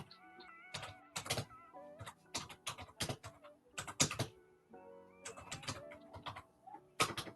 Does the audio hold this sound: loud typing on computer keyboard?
yes